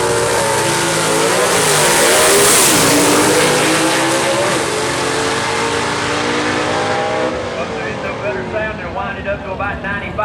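A 1967-style gasser drag car at a Southeast Gassers drag race in Knoxville, revving hard and then launching, a loud, close, rasping engine roar that holds high and then fades slightly as it pulls away.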